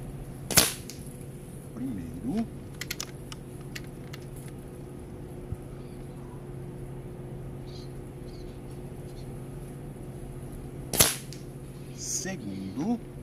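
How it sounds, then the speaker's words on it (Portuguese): Two sharp shots from a Kral Puncher air rifle in .22 (5.5 mm) calibre at 50 metres, well separated, each a short crisp crack followed by a faint distant ring, over a steady low hum. "Vamos iniciar. Primeiro disparo."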